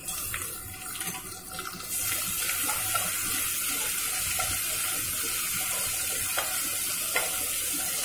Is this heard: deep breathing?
no